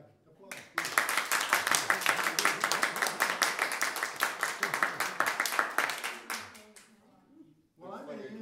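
Lively audience applause at a school monarchy debate builds into dense, sustained clapping for several seconds, then fades as a voice begins speaking.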